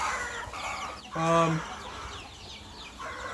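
Backyard chickens cluck near a Jubilee Orpington, with a short harmonic call standing out loudly for about half a second against a steady farmyard background.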